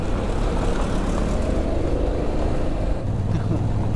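A Honda X-ADV 750 motorcycle rides over a rough, potholed, dusty road near the Laos border. Its loud, continuous engine roar blends with wind rumble throughout.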